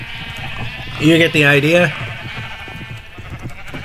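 A Minecraft sheep gives a loud, wavering bleat of nearly a second, up close, with someone talking right after it.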